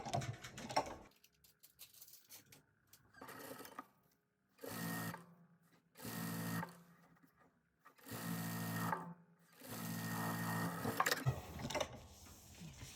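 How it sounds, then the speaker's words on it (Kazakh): A sewing machine stitches fabric along the presser foot while sewing a broom cover, running in several close, loud bursts of rapid mechanical whirring separated by short pauses. "Сосын тағы да лапкан бойымен тігіс түсіремін."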